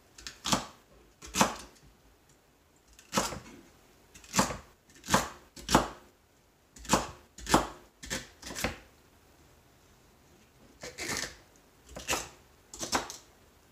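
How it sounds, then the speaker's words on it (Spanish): A knife chops celery into small pieces on a cutting board, with crisp, separate thuds coming in uneven clusters of two or three, close and clear over a quiet kitchen background. "Vamos a empezar con nuestro celery. Igual, no muy grande. Los pedazos pequeños."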